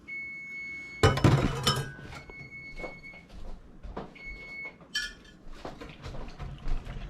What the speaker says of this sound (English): so I can get in there vigorously to stir. We're stirring.